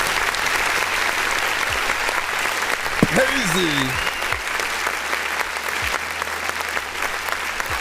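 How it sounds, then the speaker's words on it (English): Steady, dense clapping from a crowd runs throughout a live music review stream, with a brief spoken word and a faint tonal sound rising midway. "Let's go ahead and give him a clap."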